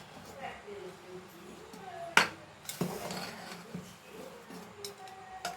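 Cooked dal rice is stirred in a pressure-cooker pot, with a few sharp spoon clanks and scraping against metal, quiet between strokes, while someone speaks over it.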